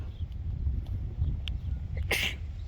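A single sudden sneeze bursts out near the end over a low, steady rumble, fairly close and loud.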